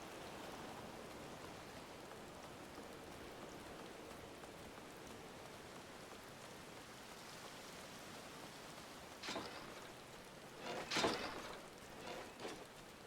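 Steady rainfall in Final Fantasy XIV, a soft continuous hiss of drops on surfaces throughout, with a few brief louder bursts near the end.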